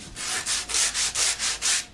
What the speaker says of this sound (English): Then I'll go to my sanding block that I made right here, which is a medium grit